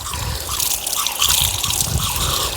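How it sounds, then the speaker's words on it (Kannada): Water splashes and trickles steadily over an elephant foot yam as it is washed of soil, a continuous close pouring and dripping sound with no talk. "ನೋಡಿ ಸ್ವಲ್ಪ ನೀರು ಹಾಕುವ ಇದಕ್ಕೆ"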